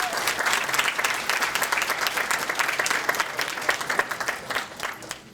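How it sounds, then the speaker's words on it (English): An audience at a Fort Myers honors recognition ceremony gives a speaker a full, sustained round of applause, dense and fairly close, thinning slightly toward the end. "Let's give him a round of applause, Dr. Al Ball"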